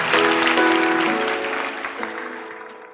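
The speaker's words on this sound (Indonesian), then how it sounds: "Beri tepuk tangan bagi Tuhan Yesus" Church congregation applauding during a sermon on the Holy Spirit, a steady wash of clapping under sustained musical tones, fairly loud and continuous, fading slightly toward the end.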